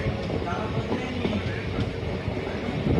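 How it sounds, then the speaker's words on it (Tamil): A train nears Thiruverumbur railway station on a foggy day, heard as a steady, dense rumble of wheels and rolling stock at close range, with faint voices underneath. "திருவரம்பூர் ரயில் நிலையத்தில் ட்ரெயின் நெருங்கிட்டு இருக்குது பாருங்கள்"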